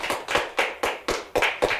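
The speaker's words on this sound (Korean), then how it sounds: "박수로 격려하겠습니다." A church congregation applauding during Sunday worship, heard as seven evenly spaced, sharp claps at a moderate pace, fairly faint, with no talk.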